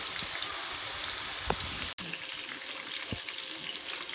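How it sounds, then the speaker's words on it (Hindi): Chicken pieces fry in oil over a medium flame, giving a steady, even sizzle with a few sharp pops and crackles throughout. "इसको मीडियम फ्लेम पे फ्राई करना है।"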